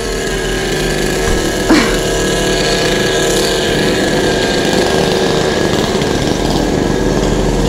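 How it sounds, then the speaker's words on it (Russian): A constant buzzing motor whine of a running saw, steady and fairly loud, with a brief knock partway through. "Ой, какой шум от этой пилы."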